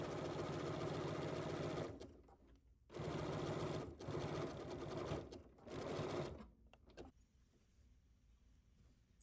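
Bernina B 990 sewing machine zigzag stitching down a folded book spine: loud rapid mechanical whirring in three bursts of about two seconds each with brief pauses, close up, then quiet handling at the end.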